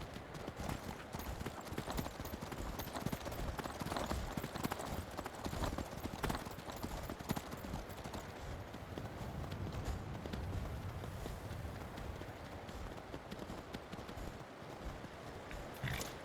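Horse hooves clip-clop steadily while a rider travels across rough, climbing terrain in the video game Skyrim, a dense, continuous run of hoofbeats with no pauses, heard up close alongside other game sounds.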